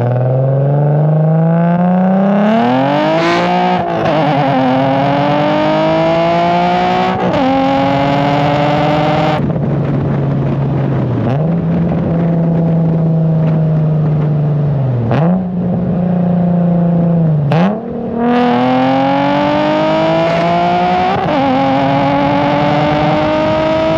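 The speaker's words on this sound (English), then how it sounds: "get you guys a little bit of an exhaust clip before we get back on the road." A car's exhaust at close range as the engine idles and is revved repeatedly, the note climbing and falling in several separate pulls with a steady rumble between them and no talking.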